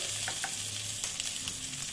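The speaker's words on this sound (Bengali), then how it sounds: "হলুদ গুঁড়ো দিয়ে আমি ভাজছি।" Pointed gourds fry in oil with turmeric powder in a kadai, a continuous close sizzle with light stirring scrapes throughout, no voices.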